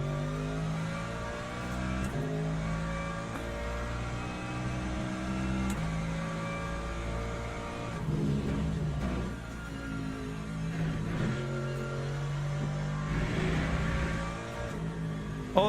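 Race car engine in Le Mans Ultimate, an LMGT3 car at Fuji, drones steadily with layered harmonics and rises and falls through the revs as the driver gets on the throttle, loud and continuous with no talk.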